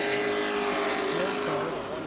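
Race cars run nose to nose in a five-car draft at a Daytona-style speedway in a sim racing event. Their engines make a dense, sustained roar with shifting whining pitches, heard at a distance behind a commentator's voice.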